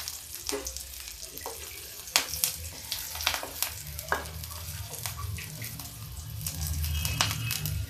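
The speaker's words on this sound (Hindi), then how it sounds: "इसके अंदर थोड़ा सा नमक लगा के फ्राई कर लीजिए।" Halved eggplant rubbed with salt and dry mango powder is frying in oil, making a soft, crackling sizzle broken by sharp pops and clinks of utensils, fairly quiet and close.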